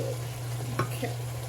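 Cooked meat stirred with tomato sauce and pasta sauce in a pan for spaghetti, a brief soft sizzle with a couple of spoon scrapes, close and quiet, with no voices.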